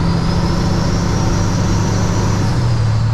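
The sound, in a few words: Kenworth W900 truck engine revving during downshift, Eaton Fuller 18-speed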